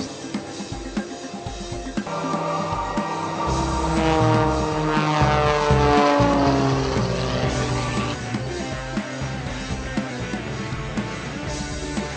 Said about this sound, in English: You'll see a lot of rudder action on these small aircraft.